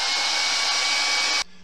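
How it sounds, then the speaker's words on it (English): A hair dryer runs at steady high speed, blowing on wet paint in a landscape painting of a beach on Barra, a loud continuous whoosh that cuts off abruptly near the end, leaving a faint low hum. "As soon as that's dry, I'll just show you on the hairdryer."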